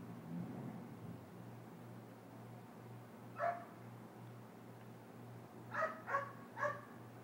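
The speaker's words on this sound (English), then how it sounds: "If y'all can hear my dog" A dog barks somewhere off at a distance, one lone bark followed a little later by a quick run of three, all over a low steady hum and background noise.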